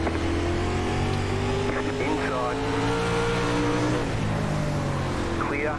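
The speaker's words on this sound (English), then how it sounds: "I'm starting to spin the tires up a bit" A dirt late model car in the iRacing sim runs a 3/8 mile dirt oval at Lucas Oil Speedway, its engine droning loud and steady with a rising, wavering pitch as the tires spin up.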